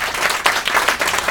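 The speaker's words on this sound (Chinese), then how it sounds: "我们掌声欢迎 Peter" An audience claps and applauds to welcome a speaker named Peter onto the stage at a team meeting: a short, dense burst of many hands clapping at close range.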